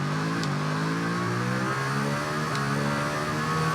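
A Norton motorcycle engine in TT Isle of Man 2 holds a loud, steady high-revving drone with a layered harmonic whine. It stays continuous throughout, with no talk over it.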